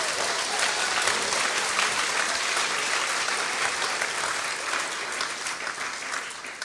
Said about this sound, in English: One round of applause for all.